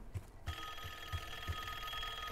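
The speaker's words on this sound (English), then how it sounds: "Where's the phone? I hear the phone." Telephone ringing in a reception area during a Call of Duty Black Ops 6 campaign mission, a steady electronic ring tone with repeating low pulses, moderately loud and alone with no talk.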